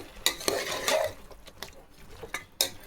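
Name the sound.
mutton frying in oil in a pan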